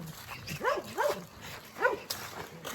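Dogs barking outdoors: three or four short barks and yelps at a moderate distance over faint background noise.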